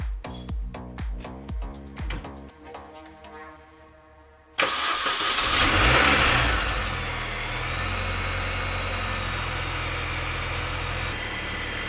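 A supercharged Mini R53 engine, just fitted with a reduction pulley, cranks and catches with a sharp burst, then settles into a steady, close idle with a faint whine, heard alone.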